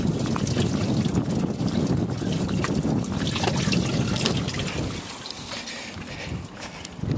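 Wind buffeting the microphone outdoors while oil is drained from a vehicle, a steady loud rumbling roar with gusty fluctuations that eases slightly near the end, no talk.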